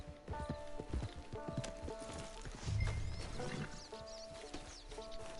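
Horse hooves clip-clopping in the game Red Dead Redemption 2, a quiet, even patter of steps under game ambience and faint music, with a brief whinny partway through.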